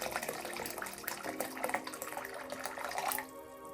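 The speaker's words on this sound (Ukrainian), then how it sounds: "Принесла я відро з водою, зараз додам гарячої води" Hot water splashes and gushes steadily into a bucket of water for about three seconds, then the pouring stops abruptly, leaving a faint hum.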